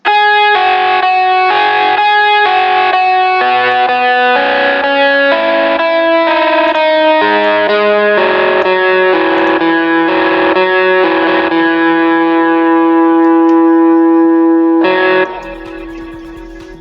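A loud, distorted lead synth-guitar melody plays a sequence of sustained, buzzy notes with echo, ending in a held tone.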